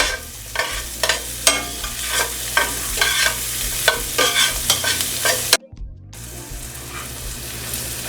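Onions and garlic sauté in a pan, stirred at intervals, with a steady sizzle and scraping strokes coming close and fairly loud, then a brief silence before the frying resumes.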